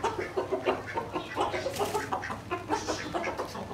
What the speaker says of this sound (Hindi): सारे मुर्गे ना बोलने लग गए हैं